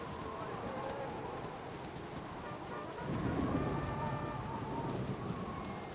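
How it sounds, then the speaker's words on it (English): Thunder in the video game Baldur's Gate: Enhanced Edition, a faint background of rain and storm noise that swells into a low rolling rumble midway and keeps going to the end. "And it's actually there's lightning."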